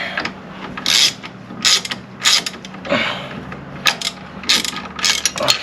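A ratchet loosens a bolt on the suspension of a Mercedes CLS63 AMG: close, loud bursts of clicking come in repeated strokes with short pauses between them, and no one talks.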